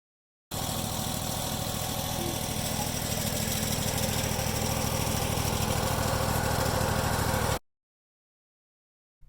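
A portable sawmill engine milling a magnolia tree, a steady loud mid-pitched droning run that starts abruptly, holds for about seven seconds, then cuts off into silence.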